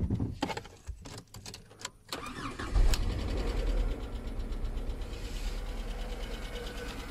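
A car with hidden engine damage starts after some clicks and rattles, then idles with a loud, steady rumble and a faint clattering tick running through it.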